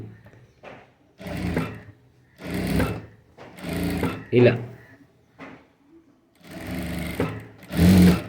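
A sewing machine stitching a princess-back blouse runs in several short bursts of a few seconds each, separated by pauses, close and fairly loud, with a voice talking between and over the runs.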